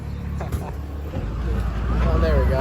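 An amphibious duck boat engine rumbles low and steady on a Wisconsin tour, a muffled motor drone under passengers' chatter that swells slightly toward the end.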